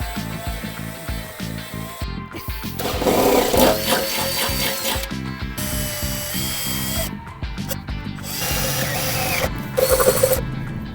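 Power drill boring out rivets on the rust-damaged rear end plate of a cheap Mazda MX-5, with bursts of high whining drilling separated by brief pauses, close and loud without talk.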